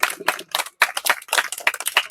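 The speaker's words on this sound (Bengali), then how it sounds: "জোরে করে হাততালি হবে" Loud, close hand clapping from a group at a bottle-and-ball game contest, bursting in quick uneven rounds with short gaps, mostly without talk.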